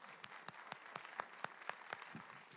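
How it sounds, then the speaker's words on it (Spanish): A church congregation claps in a faint, evenly spaced rhythm, roughly four sharp claps per second, sounding distant and quiet in the hall. "Aplauda al Señor."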